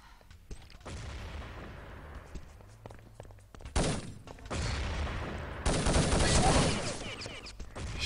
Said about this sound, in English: Shots fired, but no kills just yet.